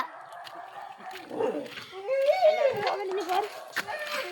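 A dog makes yipping, whimpering barks close by, with people talking over it.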